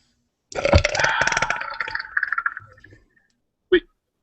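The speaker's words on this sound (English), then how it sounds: "I took the drink, and you burped." A single long, loud, gurgling burp stretches for a couple of seconds close to the microphone, trailing off before a short sharp click.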